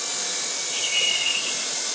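A DC motor on an open-source AC controller test rig, shut off from about 4,000 RPM, makes a steady, loud whirring hiss as it coasts down.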